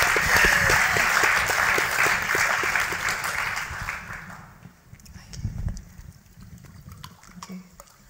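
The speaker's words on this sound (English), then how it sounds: "Round of applause for our panelists." Loud applause from a crowd fills the first few seconds, then tapers off into scattered claps and faint murmuring.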